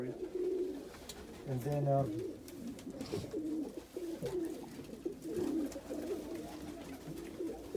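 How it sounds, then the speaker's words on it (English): Homing pigeons coo softly in a loft, low rolling calls heard close alongside a crested almond Homer sitting on eggs, with a person speaking briefly over them. "Look, there's a crested almond Homer sitting on eggs."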